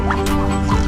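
A turkey on a small poultry farm gives a brief, close call lasting under a second, loud and alone.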